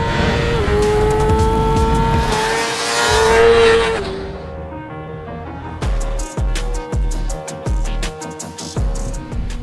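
A 2024 Kawasaki ZX6R supersport motorcycle engine screams at high revs, climbing and holding a loud wail before dropping away, then blipping in sharp repeated throttle bursts.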